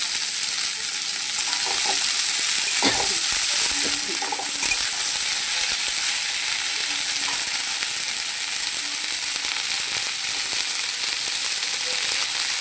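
Red amaranth greens (lal shak) sizzle in a pan over lightly fried onions, a steady hiss with a few soft stirring scrapes. No voices are heard.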